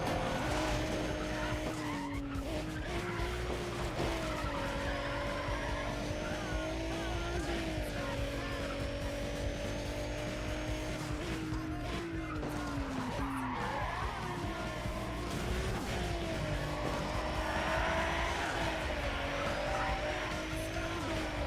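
A race car brakes hard and skids in NFS Pro Street, tires squealing in repeated wavering screeches over a steady engine roar throughout.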